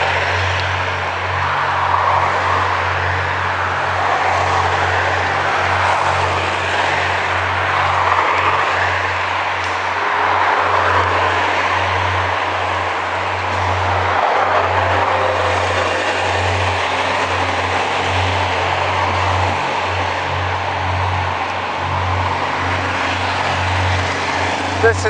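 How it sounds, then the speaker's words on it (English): Road traffic passes a cyclist on a tour of Victoria as a steady, loud rumble of engines and tyres, with a low droning hum and broad road noise that keep up without a break. "this is as bad as the traffic ever gets."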